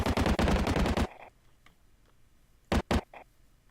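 Type 100 gun fires in a Minecraft Flans Mod game: a fast burst of about nine loud automatic shots, a pause of faint background, then two more quick shots.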